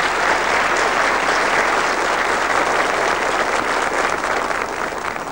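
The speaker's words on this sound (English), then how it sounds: "I think that applause was definitely justified for his performance" Sustained, loud applause from a game-show studio audience fills the whole stretch, dense and steady with no talk over it, easing slightly at the very end.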